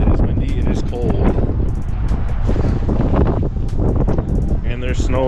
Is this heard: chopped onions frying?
no